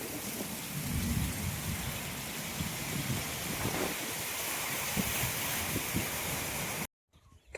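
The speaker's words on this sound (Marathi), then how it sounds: "थोडा वेळ पाऊस पडला" Unseasonal rain pours steadily around a house in rural Konkan, making a dense, even hiss with faint distant rumbles, before cutting off abruptly near the end.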